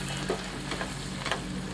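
Cashews and onion cooking down in a pan on medium heat as excess water boils off, a steady soft sizzle with faint bubbling pops, fairly quiet and continuous with no voices.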